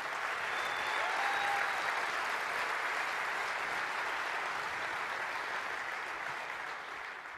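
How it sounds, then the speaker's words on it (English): An auditorium audience at a keynote address applauds the Wolf Elementary Choir, a dense, even wash of clapping from a large crowd that holds steady and fades slightly toward the end. "How about another round of applause for the Wolf Elementary Choir?"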